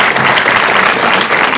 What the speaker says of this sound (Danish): Ja, det fortjener et klap.